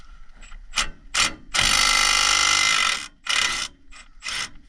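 A hand ratchet loosening a brake bolt on an SVT Lightning truck clicks in short bursts, with one long, loud run of rapid clicking in the middle, close and clear without talk.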